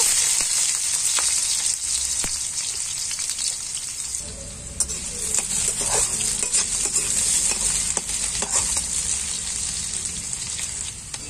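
Potatoes fry in hot mustard oil with mustard seeds, making a continuous close sizzle and crackle, with spatula stirring and scraping clattering over it.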